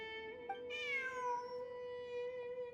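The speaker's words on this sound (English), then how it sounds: "Look! A cat!" A cat meows in the Genshin Impact video game during a Sumeru event, one clear drawn-out meow with a brief earlier chirp, standing out alone over a steady background music tone.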